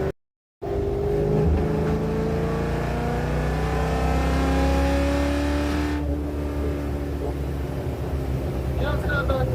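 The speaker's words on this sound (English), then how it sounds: "There it is. There's the backfire." A custom-built truck with custom tail pipes, cruising at partial throttle at 50 to 60, gives a loud steady engine drone with shifting tones, after a brief dropout at the start and a sharp change partway through.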